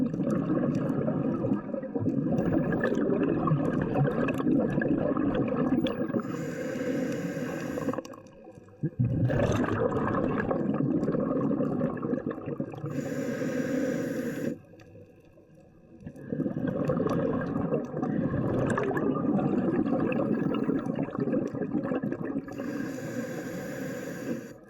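Bursts of scuba diver's exhaled bubbles underwater on a deep wreck dive, repeating in long rumbling, gurgling surges separated by brief quieter gaps, close and loud with no talking.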